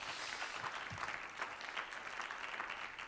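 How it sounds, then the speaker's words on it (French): Audience applause at a business conference on a studio stage, a steady crackle of many clapping hands at moderate distance lasting the whole stretch, with no talk over it. "Vous pouvez l'applaudir, oui."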